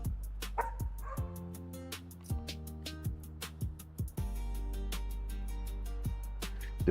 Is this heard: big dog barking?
yes